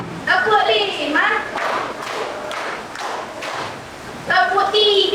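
Rhythmic counted hand clapping in a classroom, several sharp claps in a steady sequence interleaved with a voice calling the counts.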